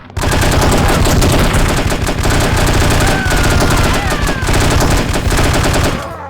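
Heavy rapid automatic fire from a big gun in No One Lives Forever, a loud, dense, unbroken burst of shots lasting several seconds before cutting off.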